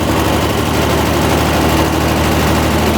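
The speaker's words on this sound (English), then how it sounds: "So I don't think this thing has idled that nice since 1987." Square body Ford Ranger engine idling after reassembly, a steady, loud, even rumble running continuously and close with no talking.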